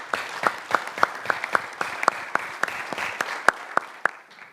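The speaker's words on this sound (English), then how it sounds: "I want to give you and us a round of applause." A small panel-discussion audience gives a round of applause, a sparse scattering of distinct, fairly close hand claps at an uneven rhythm, thinning out and stopping near the end.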